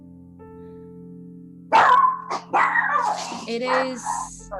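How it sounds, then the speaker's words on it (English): A dog barks furiously outside a car, set off by a squirrel; a few short, sharp barks come through amid lively, close conversation. "That's a dog outside your car going ballistic."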